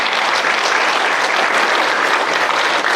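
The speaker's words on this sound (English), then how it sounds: "Clap it up for Miss Jaden Symington." Steady applause from an audience at a school athletic hall of fame induction ceremony, dense and sustained at even loudness throughout, with no voices rising above it.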